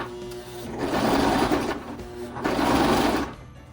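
A pedal-driven sewing machine stitching the shortened hem of a pair of jeans runs in two close bursts of rapid, whirring needle strokes separated by a brief pause.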